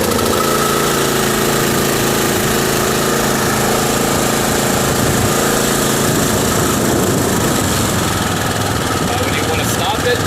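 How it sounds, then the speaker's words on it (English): A walk-behind lawn mower engine, choked and pull-started, runs steadily and loud close by with a continuous buzzing drone throughout; no voices. "So when starting this mower, you want to put it on choke, just all the way up, and you want to pull out."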